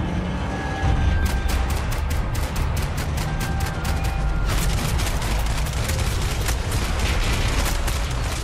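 Rapid bursts of automatic gunfire and single shots crackle through a Max Payne 3 shootout, dense and loud throughout, with low booms underneath and no talking.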